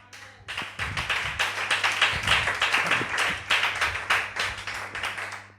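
Congregation clapping and cheering in praise at a French-speaking church gathering, dense sustained applause with rhythmic hand claps lasting several seconds, close and loud with no talk over it.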